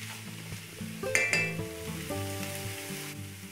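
Keto cauliflower fried rice stirred and frying in a pan, made with spices and other ingredients: a steady close sizzle with a few clinks and scrapes of the utensil against the pan, and no talking.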